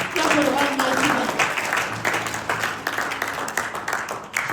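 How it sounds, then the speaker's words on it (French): A church congregation claps in praise of God. Dense, continuous crowd applause fills the room while a voice speaks over it. "Clap for the Almighty God."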